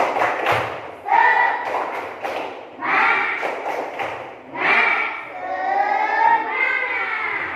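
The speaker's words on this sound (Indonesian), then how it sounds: "Tepuk semangat." A class of pupils performs a rhythmic spirit clap (tepuk semangat) during an Islamic religious education lesson. Sharp clap bursts mix with loud, chanted young voices in repeated phrases throughout.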